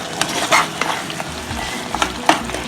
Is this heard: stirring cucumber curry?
yes